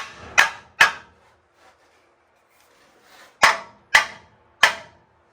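Five sharp hammer blows on metal while fitting a crossmember to a 1961 Mercury Comet, two close together, a pause, then three more in a steady rhythm, loud and near with no talking.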